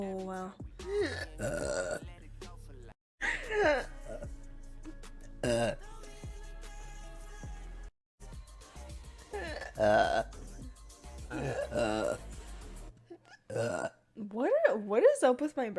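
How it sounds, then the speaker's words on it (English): A woman burps repeatedly on command, several loud, drawn-out belches separated by short pauses, close to the microphone, with bits of laughter and vocal noise between them. "What is up with my burp?"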